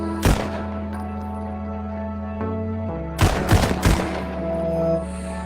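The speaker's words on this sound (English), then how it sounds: "This shouldn't be making this sound. This is a deadly squirt gun." A squirt gun in the VR game Pistol Whip fires with sharp gunfire-like bursts, one early crack and then a rapid cluster of shots later, over a steady humming game soundtrack.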